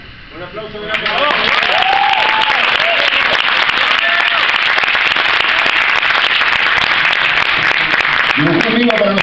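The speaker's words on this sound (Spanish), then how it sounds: "Un aplauso, un aplauso." Loud, sustained applause from a large crowd at a comic convention, dense clapping that swells in within the first second and continues steadily throughout.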